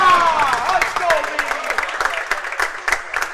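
A home crowd at a Friday night pro bowling league final breaks into applause and cheers after a spare, loud and sustained clapping for a few seconds.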